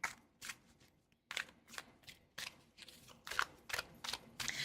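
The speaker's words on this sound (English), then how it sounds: "And I could shuffle this deck for a couple hours too." A tarot card deck is shuffled by hand in quick, soft riffling bursts with brief pauses between, close and quiet with no talking.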